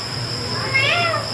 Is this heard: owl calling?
yes